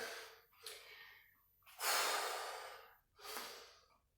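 Close, audible deep breaths after a shadow kickboxing workout, about four slow inhale-exhale cycles with quiet gaps between them, heavy and airy with no talk.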